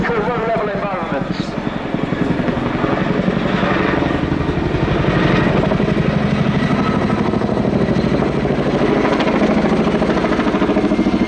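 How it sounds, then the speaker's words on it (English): A Chinook twin-rotor military helicopter flying low-level display manoeuvres at an air show, its heavy rotor chop and engine roar loud and continuous throughout. "As one of the largest battlefield helicopters in the world, these manoeuvres showcase a Chinook's excellent manoeuvrability"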